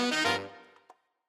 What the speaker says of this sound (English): The saxophones have like this kind of interesting line.